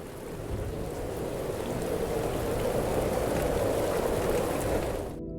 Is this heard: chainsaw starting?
no